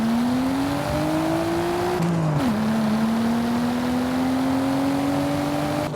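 A 1997 Nissan Skyline GTR V-Spec engine revs loudly up close, its tone climbing, dipping briefly as the throttle shifts, then rising steadily again in a sustained whine.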